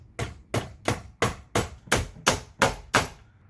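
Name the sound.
hammering recessed can light bracket into ceiling joist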